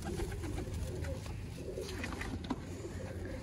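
Teddy breed pigeons give soft low coos in a loft, steady and close amid broadband background noise, with no clear talk over them.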